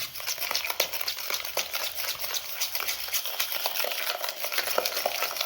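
Powdered sugar being stirred gradually into cake batter for a no-oven cake, giving a steady scraping, clinking rhythm of utensil against bowl that runs throughout, close and moderately loud with no voices.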